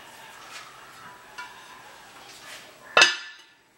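A metal Dutch oven set down outdoors while cooking cowboy stew, giving one sharp clanking knock near the end after a few soft handling bumps, close and fairly quiet.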